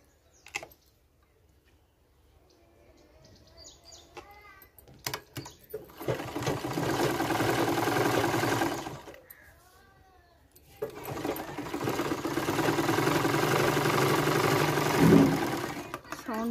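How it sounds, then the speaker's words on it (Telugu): A domestic sewing machine stitches a blouse in two long running bursts, separated by brief pauses and faint handling; the motor hum is steady and fairly loud and close, with slight irregular rattling, and no speech over the stitching. "సౌండ్ బాగా వస్తుంది మెషిన్."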